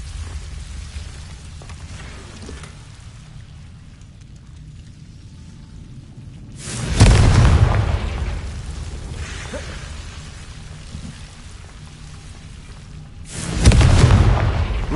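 Confringo spell explosions in a video game: two heavy, booming blasts several seconds apart, each a loud, rumbling burst that fades slowly into a quiet, hissy background, with no voices.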